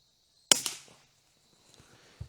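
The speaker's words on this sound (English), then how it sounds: "I'm going to go ahead and take one shot at that target" A single sharp rifle shot cracks at a target at short range, loud and close, followed by a quick echo and a faint thump of impact, then quiet.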